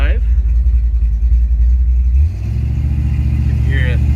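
A 1957 Chevrolet Bel-Air V8 catches and settles into a steady, loud, low rumbling idle close by, with the engine note dropping slightly after a couple of seconds.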